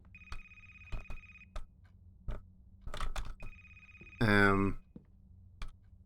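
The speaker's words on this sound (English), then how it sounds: "Oh, that phone's getting louder." Nokia 3310 ringtone inside a video game, a loud electronic ring in two long bursts separated by clicks and a short spoken interjection, with typing-like clicks scattered throughout.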